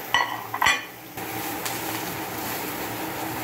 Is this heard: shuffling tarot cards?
no